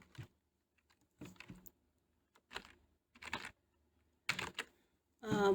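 Short bursts of keystrokes on a computer keyboard, close and quiet, separated by brief silences with a faint click at the end, no speech.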